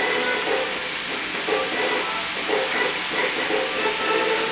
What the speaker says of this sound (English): let's start frying them just so you can get an idea